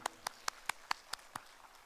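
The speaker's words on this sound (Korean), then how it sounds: "박수로 영광 올려드릴까요?" Applause from a church congregation: a slow, regular run of about seven distinct claps, short and crisp, spaced evenly over two seconds and fairly faint.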